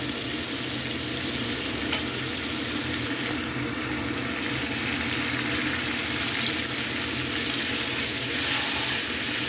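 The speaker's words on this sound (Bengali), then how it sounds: "মাংসটা কষছি আমি অনেকক্ষণ ধরেই কষতে হবে" Mutton sizzles in a pan as it is slowly sautéed, a steady low crackle and hiss running throughout with a few brief clinks, fairly soft and without speech.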